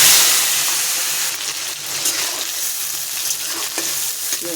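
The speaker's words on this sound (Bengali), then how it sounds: "পেঁয়াজটা ভাজা হোক।" Onion frying in a pan with dried chilli and whole cumin, a steady loud sizzle that holds evenly throughout with occasional stirring scrapes, no voices.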